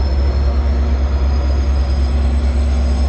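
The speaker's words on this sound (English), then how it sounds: "Maybe we'll get a view here of the locomotive." A locomotive-hauled train passes through Montreal West station, a loud, steady rumble of engine and rolling wheels close by, with no voices.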